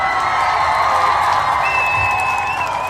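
Audience at a community Umoja toast gathering applauds and cheers in a sustained, loud wash of crowd noise with a whistle-like tone rising partway through.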